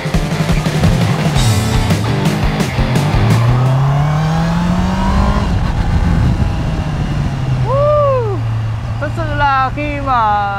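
A 2019 Honda CBR650R motorcycle engine climbs through the revs on a ride, its pitch sweeping upward and settling into a steady drone, with passing noise and whining tones toward the end.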